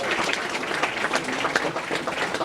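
Audience applause for the mayor of Quincy at a community event, a moderate, continuous patter of many hands with no speech over it.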